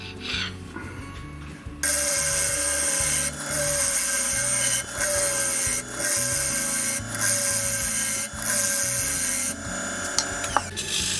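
Steel chisel cutting a blackwood bowl spinning on a wood lathe, a steady loud scraping hiss in long passes broken by brief pauses, close and alone.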